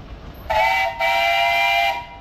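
An antique steam traction engine in a 2024 Sycamore, Illinois steam power show parade blows two loud, close whistle blasts, a short toot and then a longer sustained one.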